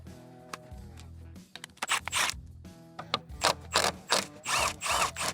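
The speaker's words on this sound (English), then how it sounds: "To remove the belt, we're gonna go ahead and take that 10 mil off the top" A ratchet backs out a 10 mm bolt on a 2025 Arctic Cat 858 Catalyst snowmobile, starting with scattered clicks and clanks, then settling into loud, close bursts of rapid pawl clicking with short gaps between them.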